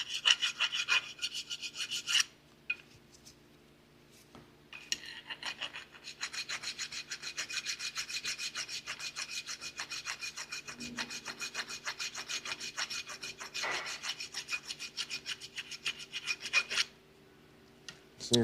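Rust is scrubbed off the brake caliper of a 2021 Genesis G70 during rear brake work, making steady close rhythmic rasping strokes that run for long stretches, pause briefly, then resume, with no voices.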